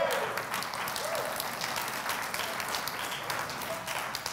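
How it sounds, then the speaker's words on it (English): Thin, scattered applause from a church audience, a light patter of hand claps that stays fairly even and moderate for several seconds with no voices over it. "And I can always tell that goes over people's head by the weak claps."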